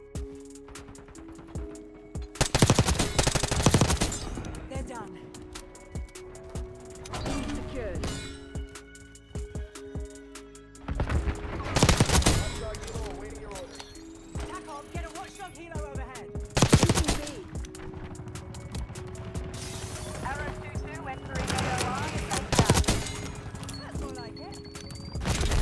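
C9 submachine gun fire in the Black Ops 6 video game on the Nuketown map comes in several loud rapid bursts spread across the stretch, alongside game music and effects while a player talks.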